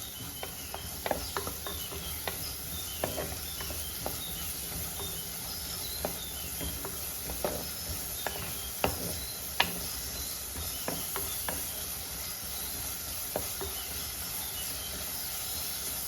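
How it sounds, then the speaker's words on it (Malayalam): Onion and green chili sizzle softly in hot oil in a pan, a faint, steady frying hiss with scattered small pops and crackles. "സവോളയും പച്ചമുളകും നമ്മുടെ എണ്ണയിൽ നന്നായിട്ടൊന്ന് വഴണ്ട് വരണം"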